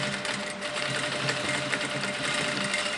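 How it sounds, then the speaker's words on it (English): A sewing machine back stitches through a buckram pinch pleat heading, giving a close, steady mechanical whir with a fine, fast rhythmic chatter that runs unbroken for the whole stretch, with no voices over it. "Give it a good back stitch, because believe you me, it needs it."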